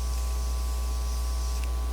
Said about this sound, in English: now we're going to spray my face real quick